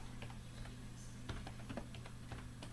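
Crisp, irregular key clicks of someone typing on a computer keyboard while working in Unreal Engine, quiet and close over a steady low electrical hum.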